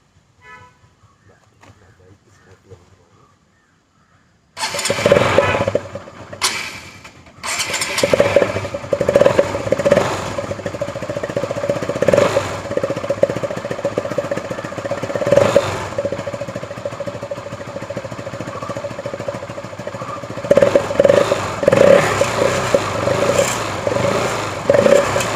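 An ordinary motorcycle fitted with a modification to mimic a KTM Duke's exhaust note starts up after a quiet moment, then idles and revs loudly and steadily, with a few horn-like toots and voices heard under the engine.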